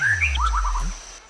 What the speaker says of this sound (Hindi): आपने सीटी क्यों बजाई?